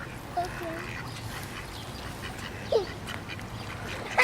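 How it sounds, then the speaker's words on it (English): Ducks quacking in short, separate bursts over a constant outdoor background hum, a few calls close by and others farther off. "where are all these ducks coming from?"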